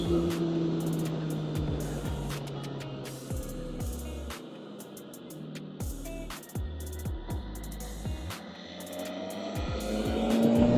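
A BMW S1000RR sport motorcycle engine revs hard into its rev limiter. It makes repeated rising, bouncing engine bursts that are loud and close, with a steady rush of wind noise under them.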